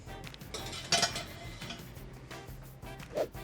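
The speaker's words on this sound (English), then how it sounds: "I'm gonna put my combo cooker in the oven because I want that to be nice and hot when our bread goes into it." A cast iron combo cooker from Lodge being handled and set into an oven, a series of close metallic clinks and knocks with a few sharper clanks, heard without talk.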